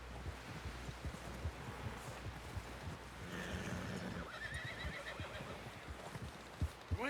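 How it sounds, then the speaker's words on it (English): A horse whinnies loudly over steady wind and ambient noise in Red Dead Redemption 2, with hooves clip-clopping throughout and a few sharp thuds near the end. "Someone help John down off this horse."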